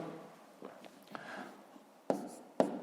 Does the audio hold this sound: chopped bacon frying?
no